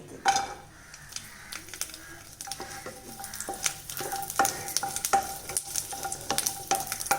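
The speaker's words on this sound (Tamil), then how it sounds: "பூண்டையும் கொஞ்சம் வறுத்தாச்சு" Garlic roasting in a pan, a soft sizzle under frequent clinks and scrapes of a spoon stirring against metal, the tapping growing busier toward the end, with no speech.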